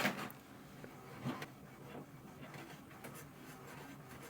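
An HP 2855e printer prints a page, its low mechanical whirring and rolling feed sound running on steadily, faint and fairly close, with a few soft clicks and knocks.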